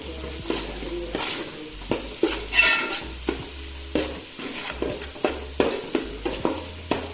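Chicken pieces for Palakkad-style biryani fry in oil while being stirred, with a constant sizzle broken by a regular series of scraping strokes and light clatters of a utensil against the pan, close up and without voices.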